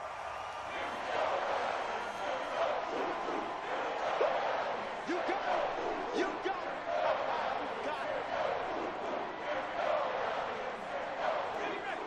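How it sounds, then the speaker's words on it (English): Stadium crowd in Madden NFL 24 roars steadily and loudly throughout, a dense, continuous wash of cheering that swells now and then, with a commentator-like voice faintly mixed beneath. "The crowd getting into it as we come up on a big third down"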